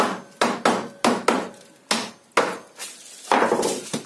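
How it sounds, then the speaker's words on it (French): A hammer taps wood while building an insulating partition board for a beehive, in a series of about eight sharp, close knocks, spaced irregularly with short ringing decays between them. "petit coup de marteau"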